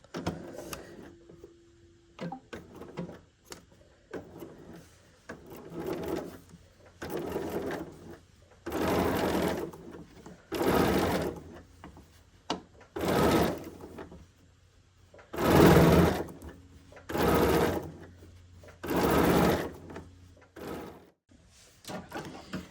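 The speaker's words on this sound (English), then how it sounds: "I'm actually going to sew 1/4 of an inch away from that hole" Sewing machine fitted with a freehand embroidery foot stitching in repeated bursts of several seconds each, its fast steady mechanical whir loud and close, separated by quiet pauses with small clicks and handling noises.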